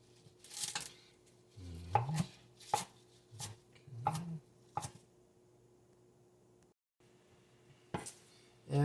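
A knife chops a kale leaf on a cutting board close up, with a handful of sharp, irregular thumps separated by short pauses.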